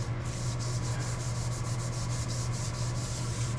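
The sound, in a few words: rubbing metal lightly with a Scotch-Brite pad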